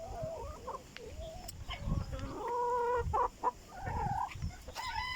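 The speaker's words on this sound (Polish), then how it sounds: "Kurki chodzą sobie po wybiegu." Hens roam an outdoor run in the morning, clucking and chattering continuously with rising calls and scattered squawks, close by, against faint farmyard background.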